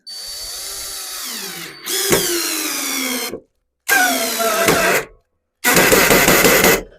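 An Aurora Anton Petrovich 12V cordless drill in second speed drives a screw into wood. Its motor whirs loudly up close in three separate bursts split by short silences, and the pitch dips under load.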